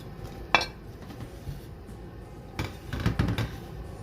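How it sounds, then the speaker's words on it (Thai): Frozen chili and garlic get pounded in a mortar, a few irregular knocks and clinks: one sharp strike early, then a cluster of quicker thuds near the end, close by and without talk. "ขอโขลกพริกกับกระเทียมก่อนนะคะ"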